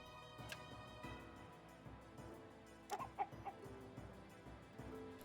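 Chickens cluck in the video game Dungeonmans, several short bird calls clustered near the middle over steady game music and ambience.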